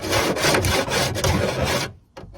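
Harsh, grating scraping rasp of metal rubbing, loud and continuous for about two seconds, then stopping with a couple of faint scrapes after.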